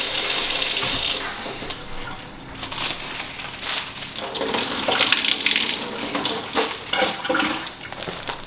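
Warm water runs from a tap onto paper towel wipes held in a bag, a loud steady splashing rush that softens briefly and varies as the towels soak.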